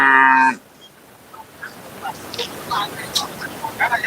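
A loud, drawn-out cow moo at the start, followed by a busy outdoor background of scattered voices and animal calls at a cattle market in Karungalpalayam.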